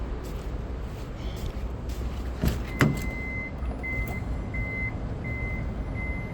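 Power sliding door on a pearl white 2019 Toyota Alphard 2.5 hybrid, a motorised whir with a couple of thuds midway, then a series of short warning beeps repeating steadily.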